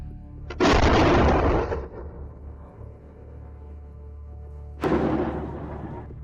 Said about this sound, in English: The wail of sirens and explosion after explosion.